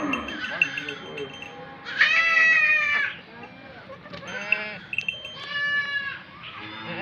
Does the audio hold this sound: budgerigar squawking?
no